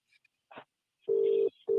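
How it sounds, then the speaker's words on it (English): Phone ringtone or tone chirping during a Zoom meeting, two short steady tones close together after a faint sound, clear against near silence. "Who's that is, ringing you"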